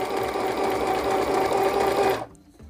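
A cheap AliExpress sewing machine runs a steady straight stitch under foot-pedal control, a loud, even mechanical whir that holds for about two seconds and then stops abruptly, leaving faint handling noises.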